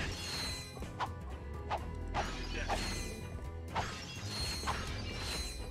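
Objects smash and break in Ratchet and Clank: Going Commando during Clank's rampage, with repeated sharp crashes and thwacks roughly every second over a dense, continuous bed of game noise and mechanical clatter.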